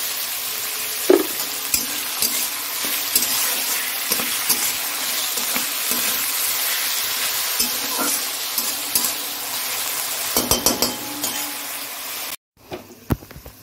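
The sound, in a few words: rice frying and being stirred in a pan with salt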